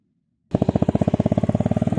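A motorcycle engine starts up abruptly and runs close by with a fast, even thumping pulse at steady revs, loud and alone.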